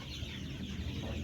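Vaccinated chickens on a poultry farm cluck in a dense, steady background of overlapping bird sounds, with no one speaking.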